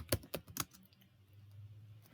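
A few quick, sharp clicks on a computer keyboard, close and distinct, then a faint low hum with no speech.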